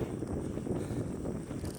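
A strong headwind gust buffets the microphone while riding a bicycle north through low wetlands, a loud, low, continuous roaring rumble with no voices over it.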